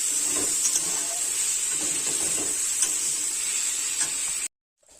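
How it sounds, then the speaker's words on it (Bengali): Small kuche fish are stir-fried with spices in a pan for a village-style curry. A steady sizzle holds close and constant with faint stirring scrapes, then stops abruptly just before the end. There is no talk. "মশলার সাথে মাছ খুব ভালোভাবে কষাই করে নিতে হবে"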